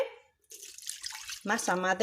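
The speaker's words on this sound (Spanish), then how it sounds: "le incorporamos los 320 de agua" Water, 320 grams, poured into 100 grams of sourdough starter for bread dough: a close, steady hissing trickle lasting about a second, then a voice starts speaking over the tail.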